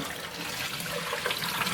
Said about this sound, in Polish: Teraz zagotowałam wodę i tutaj leję około litra